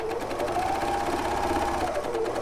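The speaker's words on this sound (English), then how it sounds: "So sew that right the way through." Britannia overlocker running steadily through fabric, a continuous close mechanical whirr with a fast stitching rhythm and no pauses.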